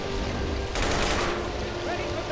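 Gunfire in a war battle video game called AMOW, a burst of rapid shots erupting sharply partway through over steady background battle noise, with faint voices underneath.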